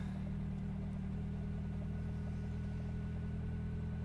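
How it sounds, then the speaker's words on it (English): A McLaren sports car engine idles steadily after a cold morning start with a low, quiet, even rumble, close by and continuous with no voices. "That's a really, really quiet engine this morning."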